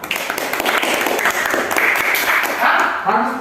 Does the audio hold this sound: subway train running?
no